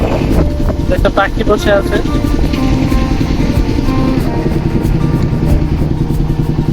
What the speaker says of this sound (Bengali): আজকে প্রচুর বাতাস আছে